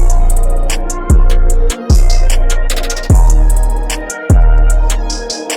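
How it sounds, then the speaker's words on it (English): Deep 808 bass pattern with long sliding booming notes, hard kicks and a quick rolling hi-hat texture, loud and upfront in a trap beat, with short gaps between bass hits. "That 808 is going to sound like this."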